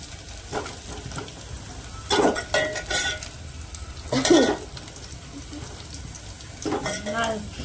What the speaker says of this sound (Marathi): मिरची पण चांगली तळली गेली त्यात कांदे बी तळले